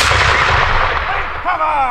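Loud musket volley from Jacobite reenactors at a 1745 living-history event at Castle Fraser, a dense blast of black-powder gunfire with rolling echo fading over two seconds.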